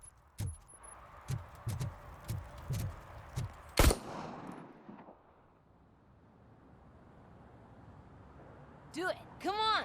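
Gunfire in the Robocop: Rogue City video game comes as a string of sharp, loud shots in an uneven rhythm, closing with one heavy blast. A quiet stretch follows, then a ringing metallic burst at the end.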